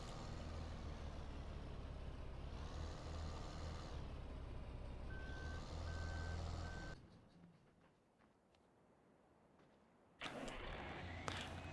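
A truck in Farming Simulator 15 reversing, its steady rhythmic beeping ringing out over a loud engine rumble, then the engine cuts and a quieter lull follows before more mechanical noise returns.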